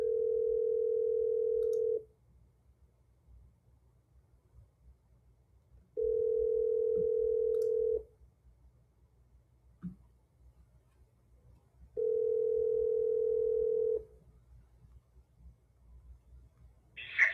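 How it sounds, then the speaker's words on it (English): A telephone ringback tone heard while calling a number, three long steady tones about two seconds each, separated by four-second gaps, followed by a brief faint click at the end. "I'm going to just dial her again, see if she'll answer."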